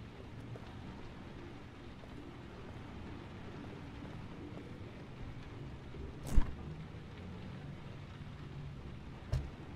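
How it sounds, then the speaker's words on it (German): Steady soft rain hiss in a dark scene of the game Heavy Rain, faint and continuous, with a rumble underneath and two brief sharp knocks near the end. "Es regnet natürlich."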